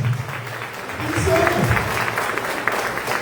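A congregation at a Catholic Mass for Mother's Day applauds, a diffuse, moderately loud wash of clapping that swells after the first second and continues, with some voices and room sound mixed underneath.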